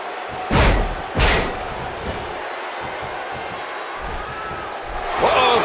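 Two heavy boot-kick impacts land in quick succession in WWE 2K15, loud thuds over a steady crowd roar, with a fainter third hit after and the crowd swelling again at the end.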